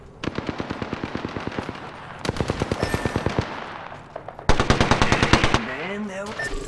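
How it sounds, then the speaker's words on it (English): Rapid bursts of automatic gunfire in a video game shooter, three loud volleys of evenly spaced shots with brief pauses between them. "I am taking fire, friends."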